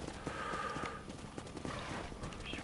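Horse hooves clip-clop at a steady trot through a Red Dead Redemption cattle-herding scene, close and continuous under background game sound and faint voices.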